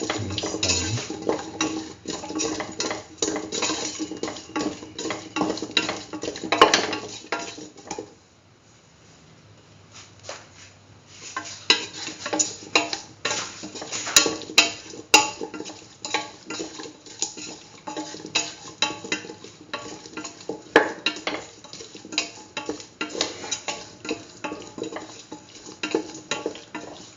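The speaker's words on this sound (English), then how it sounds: "Put in the yam pieces. Mix. Mix thoroughly." Yam pieces are stirred in a frying pan with a spoon scraping and clattering against the metal over a soft sizzle, in steady bursts with a brief quiet pause partway through.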